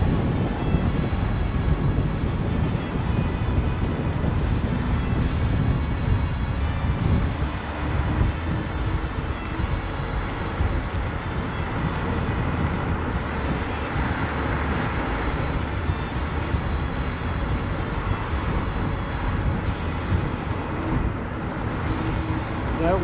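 Strong wind buffets the microphone continuously while cycling on a bikepacking trip near Point Pelee, a loud, steady roar with gusty fluctuations and no talk.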